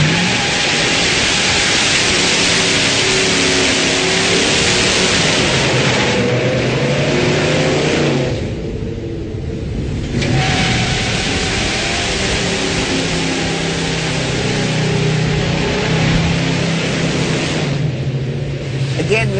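A muscle car with an automatic transmission roars through a burnout, its engine held at high revs trying to spin the tires; a loud, continuous rasping drone with a couple of brief dips in intensity.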